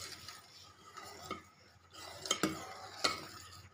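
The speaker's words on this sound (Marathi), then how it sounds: "वेलची पूड मिक्स करून घ्यायची" Cardamom powder being stirred into thickened milk for homemade ice cream, a spoon scraping and clinking softly against the pan in an uneven rhythm, with a few sharper taps standing out near the end.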